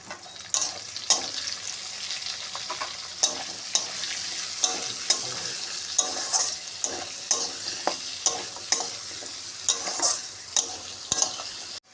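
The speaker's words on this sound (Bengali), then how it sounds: "আলু ভাজার সময় একটু হলুদ দেবো আলুর কালারটা ভালো আসার জন্য।" Potato pieces frying with turmeric in a pan for a pumpkin-greens chorchori, a continuous close sizzle broken by repeated regular clinks and scrapes of a spatula stirring against the pan, with no talking.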